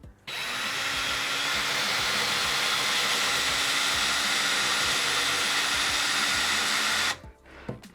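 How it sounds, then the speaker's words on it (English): A power drill whirs continuously for about seven seconds, drilling into a wood block with a steady high-pitched grinding buzz, then cuts off abruptly, leaving a few faint clicks. "We're going to start drilling a hole like so."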